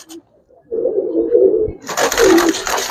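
Old-breed Giribaz pigeons on a pigeon farm coo in low, soft bursts, first a brief murmur, then a steadier run of cooing joined by brighter, noisier fluttering or scuffling toward the end.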